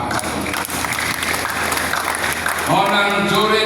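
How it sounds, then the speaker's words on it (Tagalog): Church congregation bursting into applause, a dense steady wash of clapping under a speaking voice, swelling louder and fuller toward the end. "Palakpak."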